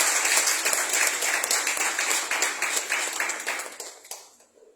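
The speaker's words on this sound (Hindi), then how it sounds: "एक और तालियां प्रभु के लिए." Applause from a church congregation at a worship service, loud and dense at first, then thinning and fading out over the last second.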